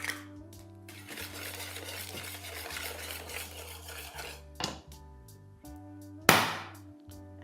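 Banana cake batter with eggs and banana chunks is being mixed in a bowl, with steady scraping and clinking of a utensil against the dish, a few sharper knocks, and a loud clatter near the end.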